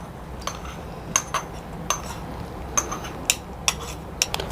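A spoon scraping and clinking against a metal pan while stirring milk powder ladoo mixture with ghee-fried cashews and raisins, with light irregular clinks spaced a second or so apart over a soft background hiss.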